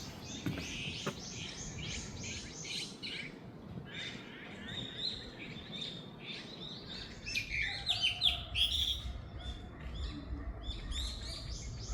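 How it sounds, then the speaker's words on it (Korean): Birds chirp and sing repeatedly in a large forest garden in central Seoul, with light, scattered high calls over a soft outdoor background hum. "쉼터도 있어서 새소리를 들으며 쉬기에 너무 좋은 곳입니다."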